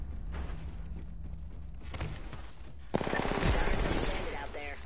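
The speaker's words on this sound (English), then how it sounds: "I missed a lot of shots then." Apex Legends gunfire rattles in rapid bursts of automatic shots, loud and close, over a continuous game soundscape with ambient noise.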